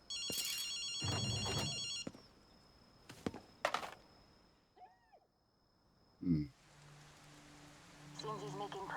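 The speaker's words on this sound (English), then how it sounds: "Akito, you hear a phone ringing?" A telephone rings in the Ghostwire: Tokyo video game, a repeated bright electronic trill heard in bursts alongside game effects, rain-like hiss and other scattered sounds.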